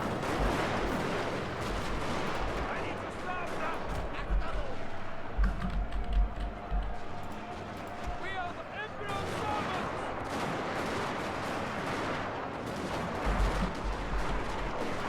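Massed musket and rifle gunfire in the video game Total War: Shogun 2 – Fall of the Samurai, with dense crackling volleys and sporadic heavier reports filling the whole stretch under a voice.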